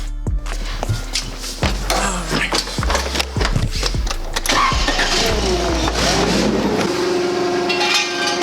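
A Nissan 350z fitted with a Manzo Y-pipe and test pipes cranks and fires up, the loud engine catching after a few starter bursts and settling into a rough idle up close, with no exhaust leak.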